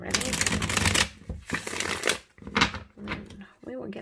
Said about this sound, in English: I will do a couple shuffles of the tarot or the oracle cards so that they are ready